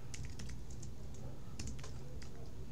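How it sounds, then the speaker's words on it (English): Quick keystrokes on a computer keyboard while a name is entered, a close, busy run of clicky taps with a steady background hum. "So I'm going to type in my name."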